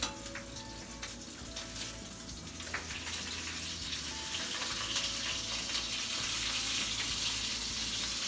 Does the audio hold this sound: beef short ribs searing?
yes